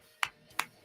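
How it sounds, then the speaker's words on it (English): Two slow, deliberate hand claps in a studio, each a sharp crisp smack spaced well apart, close and moderately loud against near silence. "The slow clap from the studio, courtesy of JayMarZZ"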